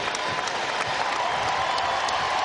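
Sustained applause from a sold-out crowd at a women's college basketball game, South Carolina against East Carolina in an arena, a dense steady wash of clapping with scattered shouts, loud and continuous throughout.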